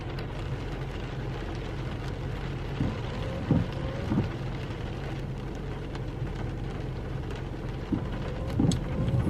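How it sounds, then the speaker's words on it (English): Steady rain heard from inside a parked car during a winter day, a constant hiss and low rumble with a few louder drops and bumps, no voices. "Plus it's raining out, so you get to hear that in my car"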